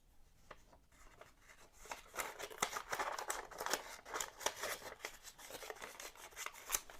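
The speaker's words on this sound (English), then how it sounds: "So let's test those scissors out." Small spring-loaded scissors on a Roktol Gen-R Lite multi-tool snipping through paper, a steady run of close, crisp cuts and rustles that grows busier partway through.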